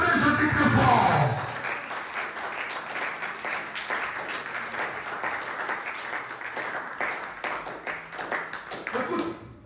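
A church congregation applauds and cheers for Jesus, with dense, loud clapping that carries on steadily throughout and swells near the end, after a brief burst of voices at the start.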